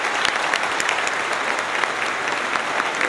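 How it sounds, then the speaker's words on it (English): Commencement audience at a high school graduation ceremony applauding steadily, a dense, even wash of clapping hands that fills the whole moment without letting up. "Please join me in a warm round of applause for their efforts."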